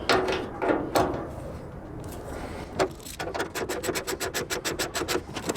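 A bolt is wrenched out of the tailgate of a 1998 Chevy C/K 1500 pickup, with scattered metallic knocks followed by a fast, steady run of ratchet clicks, close and fairly quiet, with no talking.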